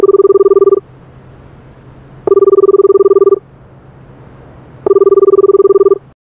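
A telephone rings during a call in the Car Parking Multiplayer mobile game, three loud identical tonal bursts about a second long separated by short silences, clean and close.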